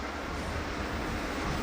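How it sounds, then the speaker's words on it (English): Train rolling past near an old building, a dense, steady rumble and roar that fills the space without a break. "trains going by."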